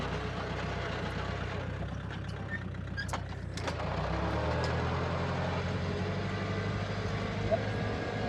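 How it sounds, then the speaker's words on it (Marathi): A farm tractor engine runs at a steady idle, a low throbbing drone that holds throughout, with faint voices and a few brief higher knocks on top. "आपलाच ट्रॅक्टर आहे, टेन्शन ना घेऊ"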